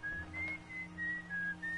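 A melodic whistled tune of several short notes with brief pauses, clear and fairly close, over a low steady background hum, in the video game Outer Wilds.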